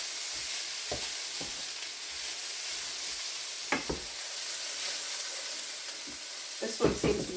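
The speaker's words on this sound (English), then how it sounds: "This one seems to be frying faster." Food fries in bacon grease in a pan, a steady dense sizzle and hiss with a few scattered pops and clicks from the pan, close and continuous, with no speech.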